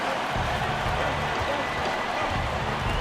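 Steady roar of a basketball arena crowd in NBA 2K18 during a '90-'91 Lakers versus Rockets game, loud and continuous with broad cheering noise throughout, no clear voices on top.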